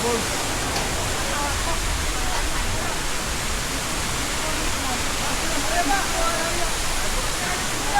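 Hulugan Falls roars as a dense, constant rush of falling water, loud and close throughout, with voices faint beneath it.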